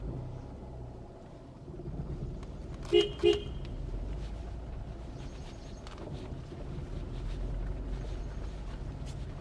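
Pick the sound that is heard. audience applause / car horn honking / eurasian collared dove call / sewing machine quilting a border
car horn honking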